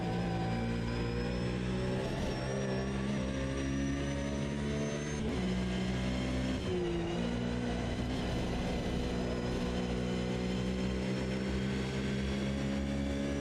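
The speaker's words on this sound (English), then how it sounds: "there's a faster car approaching" A faster race car closes in on track, its engine a steady, loud droning whine with strong tonal harmonics that shift slightly in pitch as it nears, with no talking over it.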